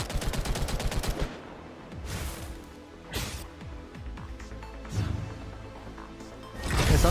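Gunfire in Girls Frontline 2 Exilium video game: a fast, loud burst of automatic shots opens, followed by scattered heavy impacts and booming hits spaced a second or two apart, ending in another loud burst.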